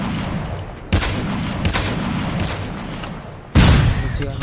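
Gunfire in the Call of Duty Mobile video game: a dense, sustained burst of rapid shots with two louder blasts standing out, heard close and heavy throughout.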